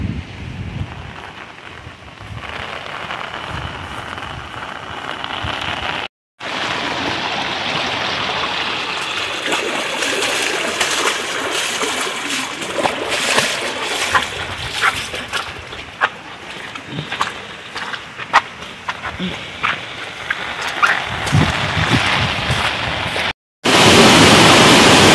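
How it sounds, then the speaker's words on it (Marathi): Rain sweeps in over forest near a waterfall during a trek, a steady loud rushing hiss of falling water that continues for most of the stretch, broken by two brief dropouts. "आता पावसाचं आगमन झालं ते बघा, तिकडून संपूर्ण पाऊस आलाय भरून।"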